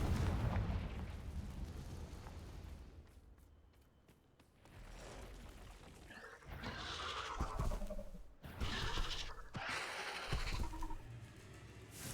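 Heavy fiery blasts from the Confringo spell in Hogwarts Legacy, cast in an Acromantula cave, go off repeatedly. The booms are loud and broad, with rumbling and clattering game effects in between.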